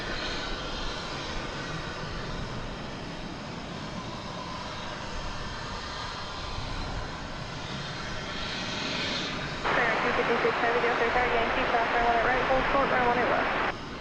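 A passenger airliner's engines drone steadily at DFW Airport, a broad continuous roar that swells louder and brighter in the last few seconds, with a tonal whine rising above it; a voice talks faintly underneath.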